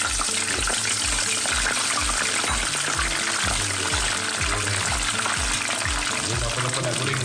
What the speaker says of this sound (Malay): Okey, sekarang ni kita nak goreng pula.